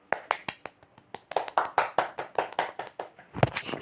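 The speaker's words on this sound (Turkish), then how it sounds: "Alkışlayalım lütfen." Rhythmic hand clapping in a Toca Life World game session, a steady run of sharp claps that picks up pace and gets louder toward the end.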